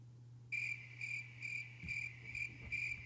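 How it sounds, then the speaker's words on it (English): A crickets chirping sound effect plays as a rhythmic series of bright, regular chirps, about six pulses over a faint low hum. "yeah, it's crickets. It's crickets."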